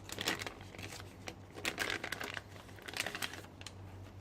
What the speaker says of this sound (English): Let's take it out of the bag and have a look.